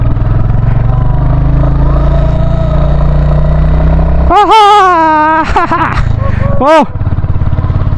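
A Royal Enfield Hunter 350 motorcycle climbs a steep, zigzagging mountain road in first or second gear. Its steady engine drone runs throughout, and a rider starts talking over it partway through.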